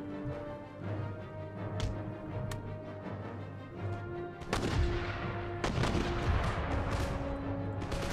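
Mortar and artillery fire in an Empire Total War battle, a distant background patter of gunshots and booming volleys under steady battlefield ambience, growing heavier and more continuous in the second half.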